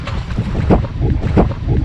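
Steady wind gusts rush over a sailboat under way at sea, with broad whooshing swells and water wash pulsing roughly twice, loud and close to the microphone.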